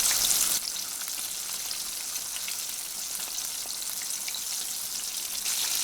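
Chicken pieces for karaage, Japanese fried chicken, deep-frying in oil over medium heat, giving a steady dense crackling sizzle throughout with no one talking.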